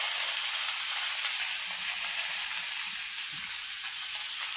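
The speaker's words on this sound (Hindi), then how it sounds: "अब डालते हैं कड़ी पत्ता" Curry leaves hitting hot oil for a dhokla tempering, a steady, bright hiss of sizzling that runs continuously and slowly eases, close and fairly quiet, with no voices.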